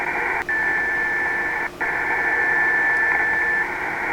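A steady carrier tone from an HF radio transmitter tuning up, picked up through a webSDR receiver, holds over a constant hiss of band noise with two brief dropouts, close and fairly loud.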